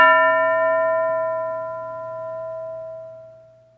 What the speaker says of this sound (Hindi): अब जब घंटी बजेगी